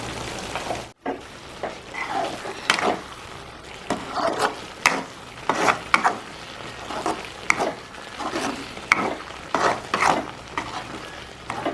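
Grated coconut stirred into liver curry frying in a pan, with repeated scraping strokes of a spoon against the pan in an uneven rhythm over a low sizzle, heard close and without talking.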